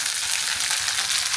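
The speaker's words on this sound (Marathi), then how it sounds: "कोथिंबीर आणि कढीपत्ता टाकला." Coriander and curry leaves sizzle in hot oil with a steady, loud, hissing crackle that stays continuous throughout.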